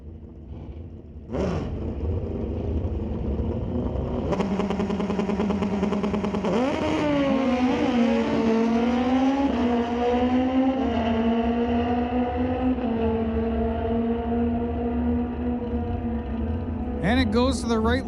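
Suzuki drag racing motorcycles launch and scream down the strip at an NHRA drag race, engines rising steadily in pitch through gear changes, loud and sustained for most of the stretch, with announcer commentary over the roar.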